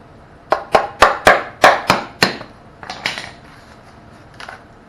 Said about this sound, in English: when you hit it, you can kind of hear a pop